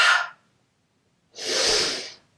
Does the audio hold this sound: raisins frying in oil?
no